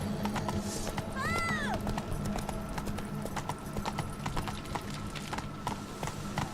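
A horse gallops in The Witcher 3, rapid rhythmic hoofbeats pounding close and loud, with a short whinny rising early on before the clip-clop carries on alone.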